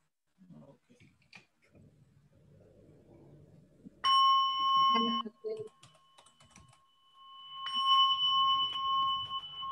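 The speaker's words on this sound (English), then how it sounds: "My little bell gets indignant if it doesn't get hit." A small meditation bell is struck twice, each strike ringing out in a bright, sustained tone that lingers for a few seconds, following soft, low murmured voices.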